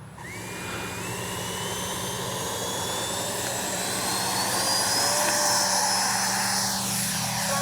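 A Freewing F-22 RC model jet's engine whines and rises steadily in pitch, a loud continuous roar swelling as it powers up and takes off nearby.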